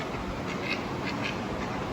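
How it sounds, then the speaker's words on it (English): Several ducks quack nearby in a rough, uneven series of calls over a steady outdoor background hiss, the quacks clear but not very loud. "And ducks down here."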